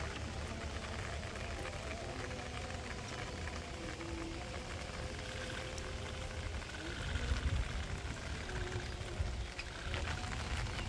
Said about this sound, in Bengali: তো বৃষ্টি মোটামুটি ভালোই হইলো